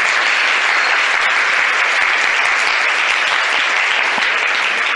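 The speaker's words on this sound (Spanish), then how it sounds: "pido un aplauso fuerte para Omar" A large audience applauds loudly for a speaker at a motivational event, dense continuous clapping that holds at a steady, full level throughout.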